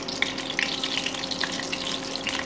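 Green chillies dropped into hot oil for a tadka give a brief, steady bright sizzle with small crackles, close and continuous over a faint low hum.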